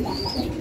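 A pigeon coos once inside a pigeon house, a soft low throaty call heard close over faint background murmur.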